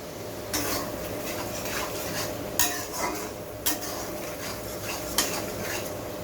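A spatula scrapes and clacks against a pan while spice paste is stirred with hilsa fish in mustard-poppy seed sauce, with a few sharper knocks over a steady low frying hiss.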